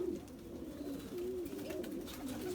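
Pigeons of a Turkish fancy breed coo in a loft, soft low repeated coos rising and falling close by, with faint scuffling and rustling behind them.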